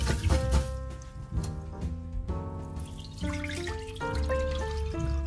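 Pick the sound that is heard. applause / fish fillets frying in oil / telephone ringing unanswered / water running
water running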